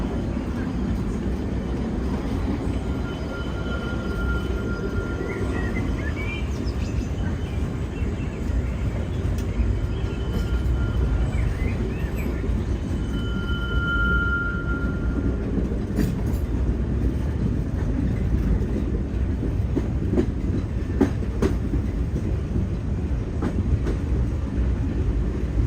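A continuous, heavy rumble of a Disneyland mining-train ride rolling along tracks, with rattling and faint clacking throughout and no pauses.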